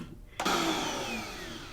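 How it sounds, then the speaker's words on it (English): A kitchen blender kicks on abruptly after a short quiet moment and runs steadily on low speed, a loud continuous whirring motor hum while blending salad dressing ingredients. "So I'm going to blend, I'm going to start on low and then just work it up to high."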